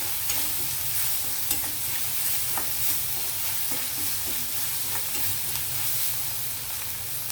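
Ginger garlic paste fries in a pan for a yellow cucumber and tomato curry, giving a dense, even sizzle with light stirring scrapes throughout.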